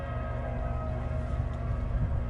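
A train rolls past on the tracks with a steady low rumble and sustained high squealing tones from its brakes, continuous and fairly loud from start to finish.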